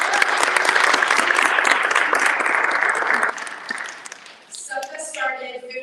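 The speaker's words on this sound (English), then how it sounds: "So a huge thank you and round of applause." An audience at a Bangladesh Independence Day celebration in New York City Council applauds loudly and steadily for several seconds, then the clapping thins out and a voice begins speaking.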